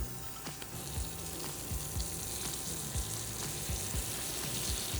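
Food frying in hot fat in a pan gives a steady close sizzle, broken by repeated soft clinks and scrapes of a utensil, with no talking.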